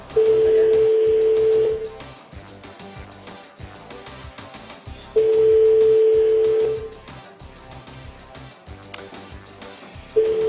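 Ringback tone on an outgoing telephone call, two long steady tone bursts of about two seconds each spaced several seconds apart, with a third starting at the end, heard over a quiet background.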